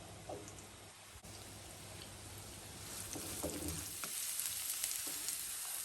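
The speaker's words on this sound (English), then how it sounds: "you just want to saute the onion for around 2 to 3 minutes until it's nice and translucent" Chopped onion sautéing in a frying pan gives a steady soft sizzle throughout, with a few faint clinks and stirring noises, and no voices.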